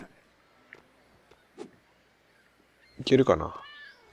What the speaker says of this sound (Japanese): 猫の声聞こえる。